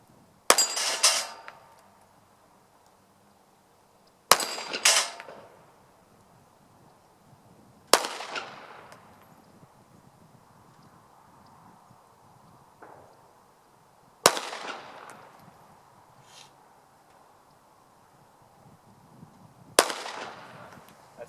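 Handgun shots at an outdoor shooting range, six sharp loud cracks spaced several seconds apart, each followed by a short fading echo, with quiet gaps between and no talking.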